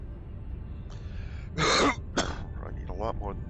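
A man nearby gives a harsh, forceful cough followed by a couple of shorter throat-clearing rasps, with soft speech-like sounds and steady background noise around them.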